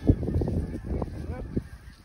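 Snow geese and Canada geese honking in flight over a hunting spread, a few loud calls up close and more clustered honks further off, with brief voices mixed in.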